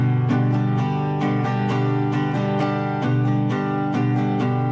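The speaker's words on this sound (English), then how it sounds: "One of the most popular ones is something I call galloping" Guitar strummed in a galloping pattern, steady, repeated strokes grouped in an uneven down-down-up rhythm, played close and alone at an even volume.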